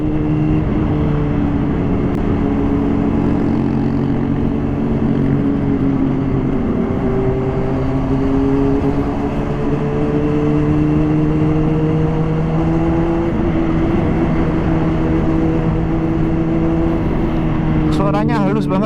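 A Honda CBR 600RR HRC Edition with an Akrapovic full-system exhaust hums smoothly while riding, its steady engine drone rising and falling gently under wind noise, with a rider talking over it.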